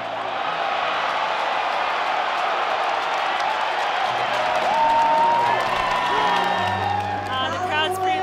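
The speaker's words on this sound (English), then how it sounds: "The crowd's pretty loud" A loud rugby sevens tournament crowd in Los Angeles cheering and applauding, a dense sustained roar with whoops and clapping, and voices and a commentator speaking over it.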